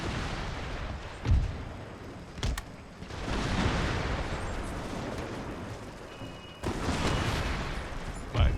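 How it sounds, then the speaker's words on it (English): Grenades exploding in a fort during an Empire: Total War battle, several heavy booms and rumbling blasts spaced irregularly over a continuous roar of battle noise, with no talk. "throwing grenades down into the fort and blowing them up"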